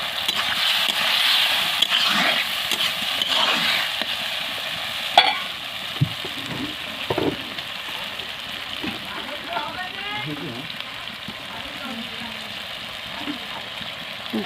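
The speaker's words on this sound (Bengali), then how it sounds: "সম্পূর্ণ কাঠের জালে রান্না।" Food frying and sizzling in a pan over a wood fire, with scraping stirs and occasional clanks of the utensil, steady hiss fading slightly while a voice speaks over it.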